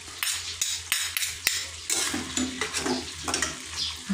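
Chicken browning in a hot pan for white chicken adobo, with a steady close sizzle and frying crackle broken by several sharp stirring and utensil scrapes against the pan.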